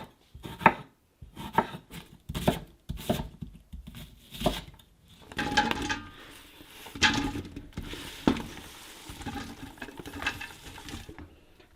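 Radishes, tomatoes, red onion and garden-picked jalapenos are chopped into large chunks on a board, with a run of sharp, close knife knocks in an uneven rhythm, then softer scraping and clustered cuts.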